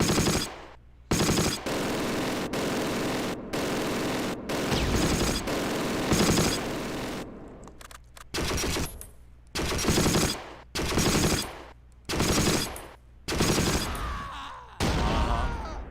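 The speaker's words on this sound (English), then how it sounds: "They're firing at me from here. I'm going to shoot back at them." Heavy machine-gun fire crackles in a Close Combat war game battle, with loud sustained bursts first and then shorter volleys separated by brief pauses, close and dominant throughout.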